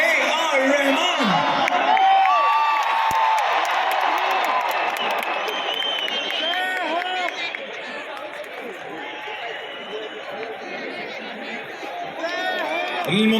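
A huge open-air concert crowd at ACA Stadium in Guwahati cheers, with loud sustained applause, whoops and whistles rising and falling continuously from start to finish.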